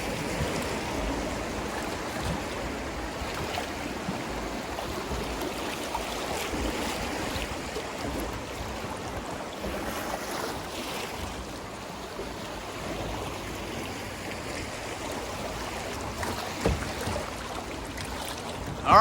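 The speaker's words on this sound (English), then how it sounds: "We just survived the first class 5-4 rapid" Rushing whitewater of a class 4-5 rapid on Blackwater Creek, heard from a kayak as a steady, dense roar close by, with no talk over it.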